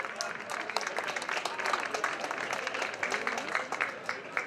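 Audience applause for a regional rider on the podium at the Essor Breton 2019 cycling stage, scattered clapping at moderate distance with crowd murmur and a voice talking over it.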